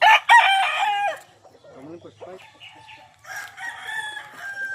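Loud rooster crowing up close from fighting roosters in the Philippines, followed by quieter clucking and a further crow from other birds in the background.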